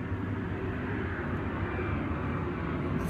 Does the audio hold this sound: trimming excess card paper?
no